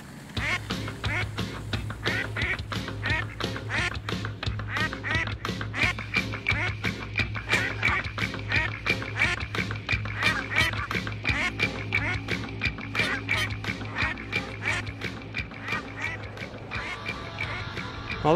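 Five black ducks quack repeatedly in a busy, overlapping chorus at Hollywood Forever Cemetery, loud and close, with a steady low hum running underneath.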